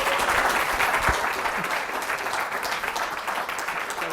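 An audience applauds a speaker at a lecture, with steady, dense clapping throughout, even and fairly loud, with no talk over it.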